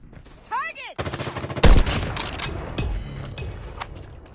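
Gunfire in the mobile shooter Call of Duty Mobile during a search-and-destroy match: a loud burst of shots after a brief whistling sweep, followed by scattered further reports and clatter.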